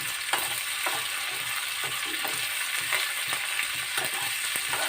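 Ivy gourd fries in a pan for chutney, with a steady close sizzle and repeated scraping stirs at a fairly even rhythm and no talking.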